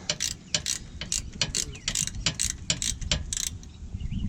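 A 3/8 ratchet with a swivel and 14mm socket works on race car parts, giving rapid bursts of sharp clicking from the pawl in quick repeated strokes, close and crisp, with no talking.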